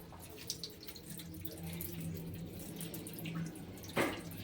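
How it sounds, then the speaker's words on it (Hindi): Tap water runs into a sink during washing, a soft, steady trickle in the background with a brief louder splash near the end; no talk is heard. "इसको भी अब पानी से धो"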